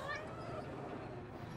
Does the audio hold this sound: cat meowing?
yes